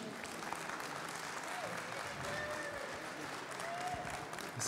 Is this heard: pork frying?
no